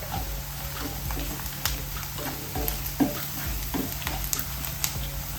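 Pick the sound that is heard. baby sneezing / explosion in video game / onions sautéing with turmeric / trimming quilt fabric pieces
onions sautéing with turmeric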